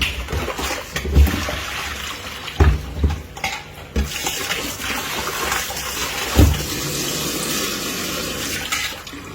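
Water running and splashing while fish are washed clean: a steady, close gush broken by several dull thumps and sloshes, continuing without talk.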